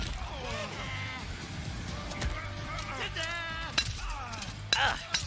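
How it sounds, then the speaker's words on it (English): A glass-shattering effect from a Mortal Kombat-style fighting game plays during a grand finals match. It comes as sharp bright bursts near the end, buried under continuous excited commentary from the casters. "It's like glass breaking."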